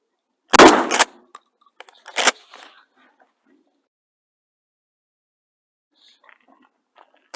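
A shotgun fired from the 10-yard line at an outdoor range: two loud, sharp blasts about a second and a half apart, each ringing briefly before the scene falls nearly silent with faint scattered movement.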